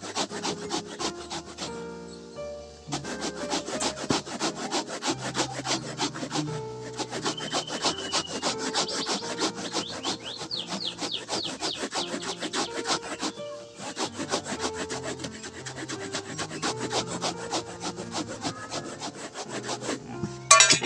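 Material for a homemade motorbike seat is rubbed and sanded by hand in rapid, continuous back-and-forth rasping strokes, close and fairly loud, with brief pauses and no talking.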